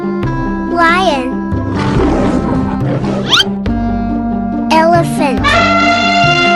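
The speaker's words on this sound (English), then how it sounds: "Lion." A cartoon lion gives a loud, rough roar lasting a couple of seconds, set against an upbeat children's melody with playful sound effects around it.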